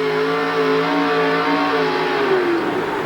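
Bob Bauman's truck revs hard at a 1988 USHRA event in Houston while pulling the sled, one engine note held and climbing steadily and loudly with no voices over it.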